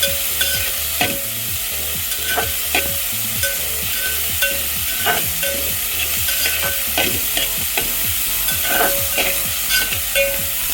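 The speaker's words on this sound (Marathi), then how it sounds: "यामध्ये अर्धा चमचा हळद हे छान परतून घ्यायचं मैत्रिणींनो।" Turmeric and green chillies are stir-fried in a pan, a steady sizzle broken by regular scraping strokes of a spoon, close and continuous with no talking.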